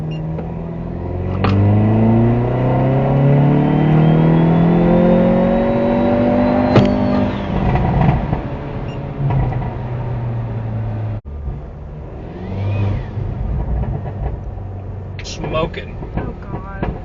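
A Hyundai Veloster N turbo accelerates hard in third gear with a failing turbo: rising engine harmonics climb over several seconds under a thin, high turbo whine, then the engine drops off and settles into a rougher, quieter drone.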